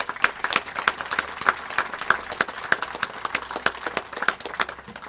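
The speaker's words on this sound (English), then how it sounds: "Please give them a round of applause." An outdoor crowd at a Memorial Day wreath-laying ceremony claps for two grand marshals, veterans, with scattered, fairly sparse claps ringing out in a loose, uneven rhythm at moderate distance.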